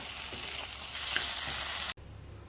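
Chillies fry in a pan with a loud, steady sizzle and occasional stirring scrapes. The sound cuts off abruptly near the end, leaving faint background noise and no voices.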